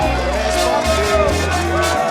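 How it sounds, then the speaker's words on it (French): A large street crowd cheers and applauds for a returning judo champion, a dense roar of voices and clapping, with a steady low hum underneath. "tout son peuple qui acclament et applaudissent leur chère et tendre héroïne"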